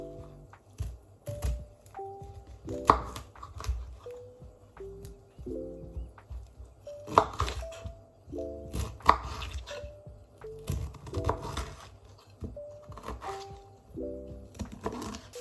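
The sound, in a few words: chopping broccoli with a knife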